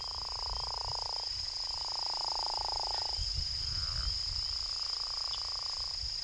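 Frogs call at Glenn's Pond, Mississippi, in long, drawn-out droning notes repeated several times, over a constant high insect trill on a still night.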